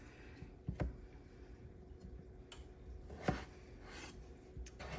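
A knife slices Yukon Gold potatoes into roughly one-inch cubes, giving a few sharp, close cuts against a board, with a distinct chop near the start and another crisp one in the middle, separated by quiet handling noise.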